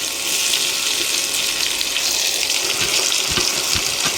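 Finely chopped onion dropped into hot oil for chicken bhuna masala, giving a steady, loud broadband sizzle that holds throughout with a few soft low thumps near the end.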